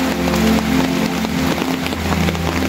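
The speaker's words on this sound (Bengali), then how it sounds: "প্রচুর পরিমাণ বৃষ্টি" Heavy rain pours steadily and loudly in Chandpur, with a dense broadband wash over a low, steady hum that may be a nearby engine, unbroken for the whole stretch.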